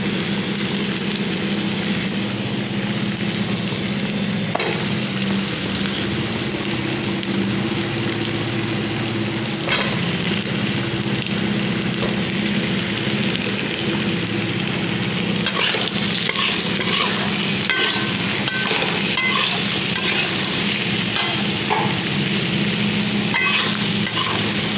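Bata fish and ridge gourd curry sizzles in a pan while being stirred, a loud, constant frying crackle with scraping stir sounds close by and no voices.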